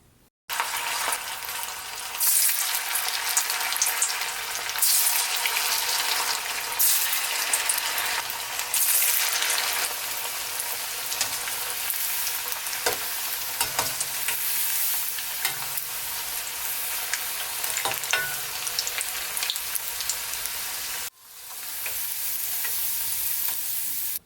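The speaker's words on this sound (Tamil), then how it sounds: "உங்களுக்கு பிடிச்ச ஷேப்ல அதை சின்ன சின்னதா பிரிச்சு அதை பொரிச்சு எடுத்துருங்க" Chicken pakoda pieces deep fry in hot oil, a loud, steady bubbling sizzle heard up close with occasional spatters and stirring scrapes, broken by a short pause near the end before the frying resumes.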